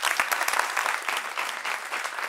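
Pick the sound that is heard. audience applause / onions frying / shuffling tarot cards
audience applause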